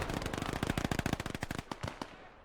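Automatic gunfire in the World War II strategy game Gates of Hell: Ostfront, a rapid string of about two dozen sharp, close shots over two seconds, loosening toward the end.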